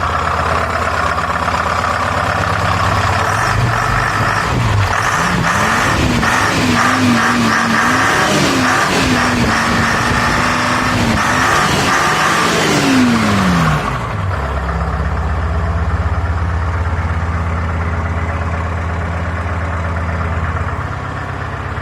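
A Detroit Diesel 4-53N engine with an N45 injector, fitted in a van in Brazil, runs loud and close. It revs up steadily, its pitch climbing, then drops back abruptly to a lower, rough idle.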